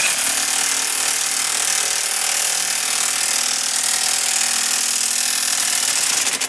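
An impact wrench hammering a bolt tight during strut replacement on a 2004 Pontiac Grand Am makes a loud, continuous mechanical hammering rattle for several seconds, then cuts off abruptly at the end.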